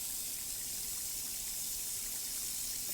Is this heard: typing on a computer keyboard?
no